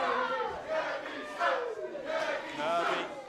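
A wrestling crowd at a live pro wrestling show chants loudly in unison, rhythmic rising shouts repeating in waves that fill the arena.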